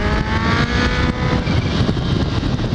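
A Kawasaki H2 motorcycle with a reflashed ECU pulls hard under acceleration, its engine roaring loud and continuous beneath heavy wind buffeting, heard from the rider's position while on the move.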